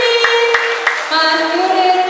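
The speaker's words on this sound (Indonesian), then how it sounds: "Kita tepuk tangan meriah dong untuk Mas Yudi" Audience at a stage show applauding for Mas Yudi, a few sharp claps at first and then lighter scattered clapping beneath sustained musical tones.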